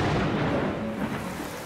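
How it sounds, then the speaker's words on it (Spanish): Heavy rain in the Amazon rainforest of South America, a dense rumbling downpour with a low thundery roll, loud at first and easing slightly, no voices. "En el Amazonas, en Sudamérica, a veces llueve."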